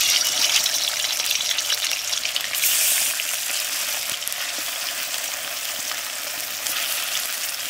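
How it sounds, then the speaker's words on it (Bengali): Chicken pieces fry in hot oil in a home kitchen, a loud, steady sizzle and crackle that runs throughout with occasional stirring scrapes and no talking. "ওই তেলের মধ্যে এই মাংসগুলোকে এবার দিয়ে দেবো"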